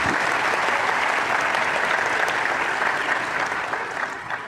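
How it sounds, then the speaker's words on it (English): Sustained applause from a large audience for members and staff of South Africa's election commission, a dense steady wash of clapping that fades slightly toward the end. "let's give all the members of the Commission and the staff a round of applause and thank them"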